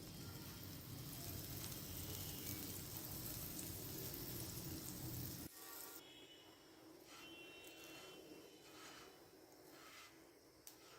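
An egg sandwich fries in butter in a pan with a dense, steady sizzle that drops to a softer, quieter crackle partway through once the sandwich is turned to cook its second side.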